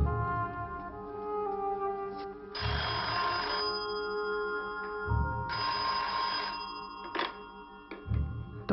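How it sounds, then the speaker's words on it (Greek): A telephone bell rings in repeated loud bursts about every two and a half seconds, a ringing sound effect standing alone with no voices. "Το κουδούνισμα του τηλεφώνου από το φρουρό ξυπνά τον ίδιο το Μεταξά."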